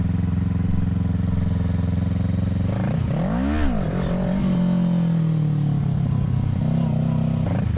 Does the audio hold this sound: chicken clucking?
no